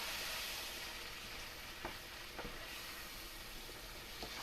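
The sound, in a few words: beef tips and flour sizzling in a pan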